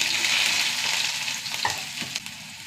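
Mustard seeds and onion fry in hot coconut oil, giving a loud, close, continuous sizzle with faint popping and stirring throughout.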